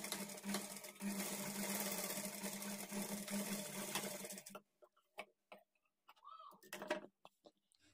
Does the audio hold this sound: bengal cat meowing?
no